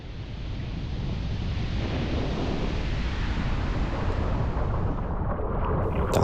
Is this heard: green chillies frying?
no